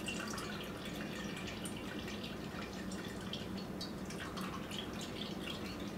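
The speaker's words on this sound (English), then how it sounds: "we need to drain our fruit cocktail" Liquid drains from canned fruit cocktail and mandarin oranges, a steady, even trickle and drip of syrup running continuously at close range with no talk.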